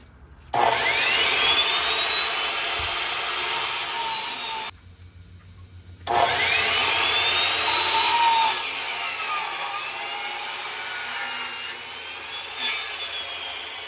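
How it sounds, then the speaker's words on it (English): Wooden deck boards being sawn to length with a power saw for a rooftop deck on a Ram ProMaster 2500 van, two loud sustained cutting passes with a whining tone, separated by a short pause, close by. "got all the boards cut for the deck"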